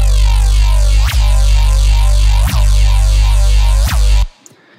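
Detuned reese bass synth with a second layer tuned up four cents, a loud sustained low drone with slow phasing sweeps pulsing roughly every 1.4 seconds, alone, ending abruptly.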